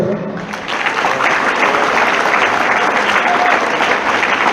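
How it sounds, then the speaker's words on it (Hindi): An audience at a road safety show breaks into sustained applause, many hands clapping loudly and evenly for several seconds. "मैं ये चाहूँगा कि आप उनका तालियां बजा करके स्वागत करें।"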